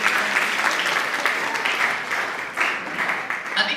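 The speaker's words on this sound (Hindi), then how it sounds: "एक बार इनके लिए जोरदार ताली।" Steady audience applause at a college street-play performance (nukkad natak), dense clapping from a crowd sustained evenly throughout, close and fairly loud with no talk over it.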